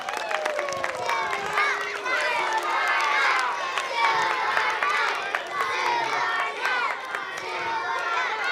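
Schoolchildren at a morning flag salute cheer and shout together in a lively, sustained crowd roar, with an adult voice briefly heard.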